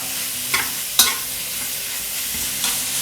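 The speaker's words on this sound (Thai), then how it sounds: "เราก็จะผัดเลยนะครับ เราจะผัดให้ น้ำในเนื้อหมูของเรานะครับ แล้วก็มันของเขานะครับ แห้งแบบสนิทเลยนะครับ" Minced pork stir-frying in a hot pan for holy basil stir-fry, a continuous sizzle punctuated by a few sharp spatula scrapes and clacks.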